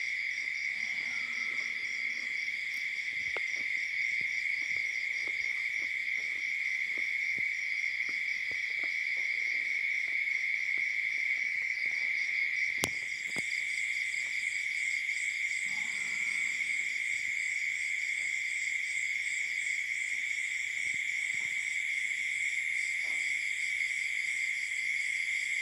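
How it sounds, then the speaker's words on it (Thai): Steady high-pitched insect chorus of crickets at night, with frogs faintly croaking underneath, continuous and even throughout beside a haystack in rural Thailand. "บรรยากาศเสียงแมงร้องนะคะ"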